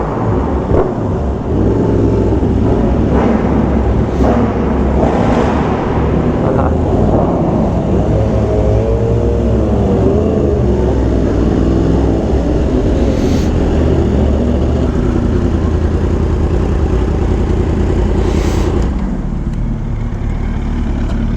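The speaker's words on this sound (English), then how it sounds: "I know you guys like revving, so open up the visor, give you a couple of revs." Sport motorcycle engine on a group ride with a Yamaha R1M, R1, Suzuki Hayabusa and BMW S1000RR M, a loud continuous engine roar heard close up with rising and falling revs over steady road noise.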